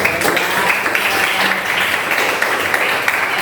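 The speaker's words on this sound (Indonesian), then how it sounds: "Tepuk tangan buat temannya dong." A classroom of students applauds classmates who finished their work, a dense, steady wash of clapping at close range that lasts the whole moment, with some voices mixed in.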